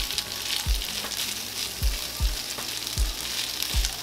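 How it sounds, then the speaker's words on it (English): Breakfast food frying in vegetable oil, a dense steady sizzle with regular low thuds from a spatula pressing and turning it. "the vegetable oil is gonna help fry it and crisp it up"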